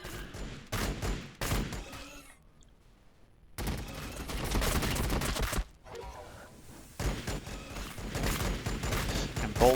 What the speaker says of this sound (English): bolt pistols, whenever you do a charge attack, you get that reaction fire